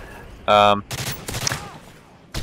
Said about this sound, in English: I go with the M16 just because I wanted to use a little bit different gun, burst gun